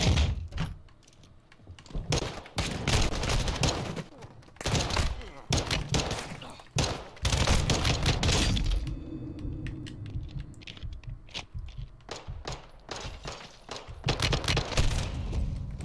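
Gunfire from Call of Duty Modern Warfare 2 during an undercover mission in Mexico, with dense bursts of shots and impacts in loud clusters separated by brief lulls.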